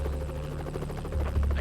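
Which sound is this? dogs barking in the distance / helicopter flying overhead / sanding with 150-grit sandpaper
helicopter flying overhead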